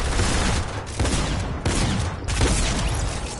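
Rapid bursts of gunfire in Fortnite Battle Royale, loud and continuous over about three seconds with several sharp volleys running together in a dense, noisy barrage.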